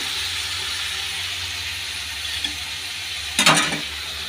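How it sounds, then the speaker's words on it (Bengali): Fish frying in a pan gives a steady, hissing sizzle while dishes are washed in the sink nearby, and a brief clatter of utensils stands out near the end. "এই যে দেখো মাছটা ভাজতে ভাজতে বাসনগুলি ধুয়ে নিলাম।"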